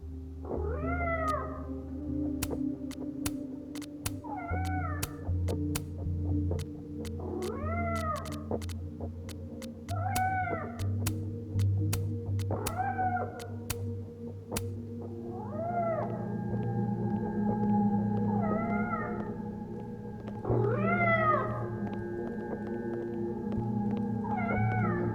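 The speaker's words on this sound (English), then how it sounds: "I hope the cat's okay." A cat meows in the video game Life is Strange: Double Exposure, with about nine clear, moderately loud meows spaced a few seconds apart over a low, steady ambient hum.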